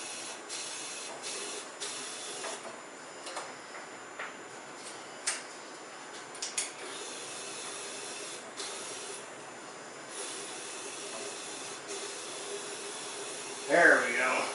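A powder coating gun sprays powder inside a home-made booth, giving a faint, steady hiss. Occasional soft clicks and knocks break through it, and a brief louder burst comes right at the end.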